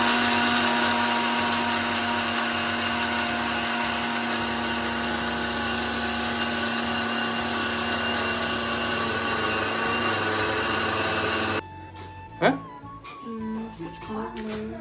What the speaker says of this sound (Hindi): लग रहा था यार मिक्सी में पिसेगा नहीं है, पिस गया।